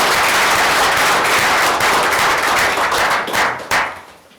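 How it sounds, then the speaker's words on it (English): A city council meeting audience applauds the police officers with dense, loud clapping from many hands that holds steady, then thins into a few scattered claps and dies away. "I want a round of applause for them"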